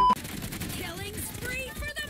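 Automatic gunfire rattles in a video game team deathmatch battle, a dense continuous burst of rapid shots with whizzing sounds, fairly loud and steady for about two seconds.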